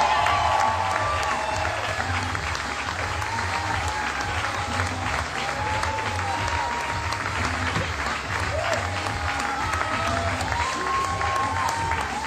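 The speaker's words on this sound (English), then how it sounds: "Please give a big round of applause for Manny Oliveira." A comedy club audience at Catch a Rising Star in Lincoln, Rhode Island applauds a comedian arriving on stage: dense, steady clapping with scattered cheers and whistles that keeps up loudly for the whole stretch.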